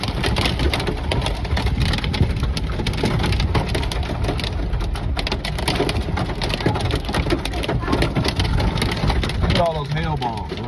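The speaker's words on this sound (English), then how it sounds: "Look at all that hail. I've never seen a hail like that." Heavy rain and hail pounding a car while driving, a dense loud drumming of hard strikes on the roof and glass over road and engine rumble, with people talking throughout.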